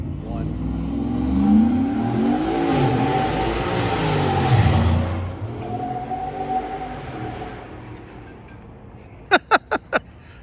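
A 2019 Chevy Suburban with a big single turbo launches at full throttle in four-wheel drive. The engine drone rises as it pulls away, fades into the distance, and is followed by voices and a few sharp clicks.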